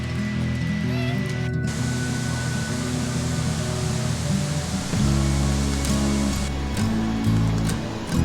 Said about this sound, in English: There's almost no better sound than when you can hear a waterfall in the distance.